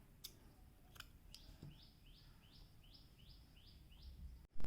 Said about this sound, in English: Now you need to work a slip stitch in the next stitch, chain one and cut your yarn.